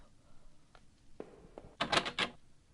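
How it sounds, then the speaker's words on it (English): In a spooky video game, someone tries a taped-up, stuck door: a few soft knocks, then a short burst of loud rattling and thumping, close by. "The door was taped up and seemed to be stuck."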